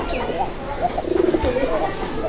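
A male pigeon on a loft coos in a low, throaty warble lasting a second or two, close by, while someone talks over it.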